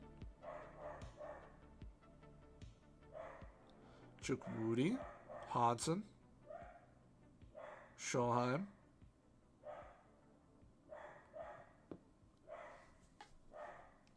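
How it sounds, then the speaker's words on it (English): A dog barks upstairs in a home, a few muffled bursts in the distance beneath continuous close commentary on a football management game. "Excuse my dog for barking upstairs"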